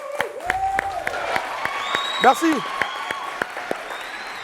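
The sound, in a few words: audience applause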